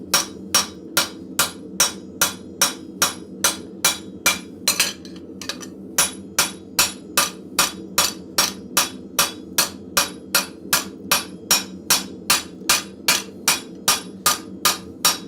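A blacksmith strikes hot metal with a cross peen hammer in a forge, a fast, regular run of sharp ringing blows, close and loud, with one brief pause midway before the steady rhythm resumes.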